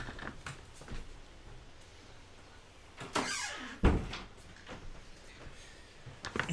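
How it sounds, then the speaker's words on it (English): A door being pulled shut in a home, with a soft creak and a distinct closing thump partway through, heard alone over faint room noise. "I'm just going to close the door because I could hear it getting loud out there"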